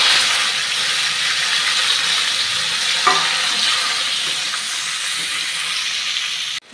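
Amla (Indian gooseberries) dropped into a pan with turmeric, setting off a loud, continuous close sizzle that hisses steadily, with a brief clatter partway through, then cuts off abruptly.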